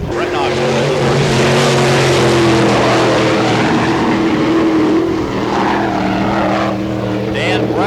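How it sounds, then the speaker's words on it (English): A sprint car engine running rough and sour on a Florida dirt race track roars loud and steady, its droning harmonics wavering as it passes, with an announcer speaking over it. "And the engine a little bit sour, sounds like."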